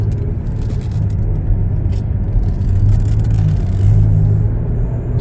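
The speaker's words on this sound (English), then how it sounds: "we're going to go ahead and take it for a little test drive" Inside a 2022 Chevrolet Blazer RS with a six-cylinder engine on a test drive, a steady low engine rumble and road noise swell slightly as it accelerates, with no talk.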